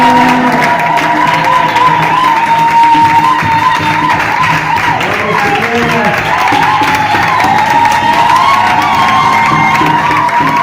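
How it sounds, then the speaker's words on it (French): A congregation at a religious couple's anniversary celebration cheers, whoops and applauds as the couple walks forward, a loud, continuous wash of crowd noise with music underneath throughout. "nous invitons les couples religieux avec les acclamations, pendant que le couple s'avance"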